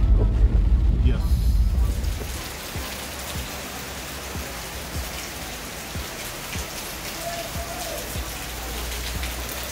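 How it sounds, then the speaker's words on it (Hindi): Heavy rain pours down in Dharamshala, a dense, steady hiss of drops on surfaces after a louder rumbling opening, with scattered heavier splats throughout. "बारिश हो रही है बहुत तेज़"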